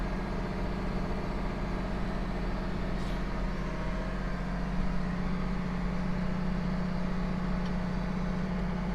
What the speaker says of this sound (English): As the tractor is warming up, I'm not going full RPM, I'm probably only about 3/4 throttle.